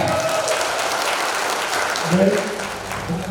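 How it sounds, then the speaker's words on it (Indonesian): An audience at a government outreach session on illegal cigarettes and excise duties applauds in a thick, continuous patter, with a voice briefly heard over the clapping. "Berikan tepuk tangan yang meriah."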